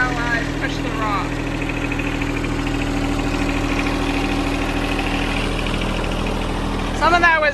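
A tractor engine idles steadily nearby, a continuous low mechanical drone with a faint knocking throb that holds throughout, with a brief louder burst near the end.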